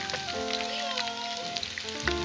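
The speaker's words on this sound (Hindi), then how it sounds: "लहसुन अदरक का पेस्ट शामिल कर दिया, इसको फ्राई कर रही हूँ।" Garlic ginger paste frying in hot oil, a steady close sizzle and crackle running throughout, with faint tonal background sounds and no talking.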